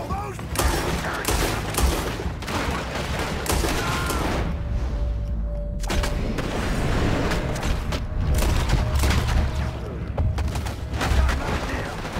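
Dense, rapid gunfire crackles through a Red Dead Redemption 2 shootout, shots overlapping in loud bursts with booming reports, while voices shout now and then.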